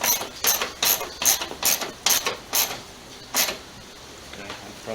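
Fasteners on a 2006 Chrysler Sebring headlamp assembly being tightened with a ratchet, a rapid series of close, crisp clicking bursts that thin out toward the end.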